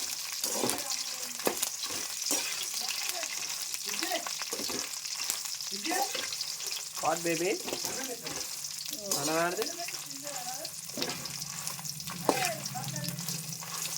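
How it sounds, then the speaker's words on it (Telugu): Dried red chillies frying in oil for gongura chutney, a steady close sizzle with stirring clatter, while someone talks intermittently over it. "ఎండు మిరపకాయలు వేయిస్తున్నాను."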